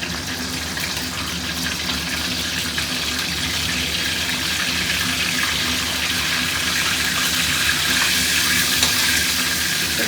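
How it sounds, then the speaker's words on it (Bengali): Whole garam masala spices sizzle in hot oil left from frying potatoes, a loud, steady crackling hiss that holds evenly throughout with no voices. "এবার এই আলু ভাজারই এই গরম তেলের মধ্যে দিয়ে দেবো হচ্ছে এই গোটা গরম মশলা"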